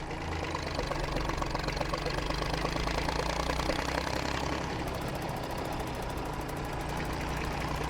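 A 1959 Fordson Dexta tractor engine chugs steadily while driving, a continuous low, rough diesel knock held at close range and fairly loud throughout, with no talking.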